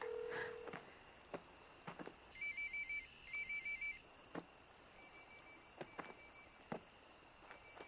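A phone rings in short repeated electronic bursts, faint and somewhat distant, amid scattered clicks and rustles in an otherwise quiet setting.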